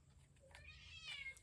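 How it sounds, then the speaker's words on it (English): A house cat meows indoors, a couple of short, faint, rising calls against a quiet room background. "That's my cat, if you can hear her."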